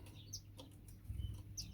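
Small finches and canaries in an indoor aviary bird shed give a few scattered high chirps and tweets, with a brief flutter of wings, fairly faint against a low background hum.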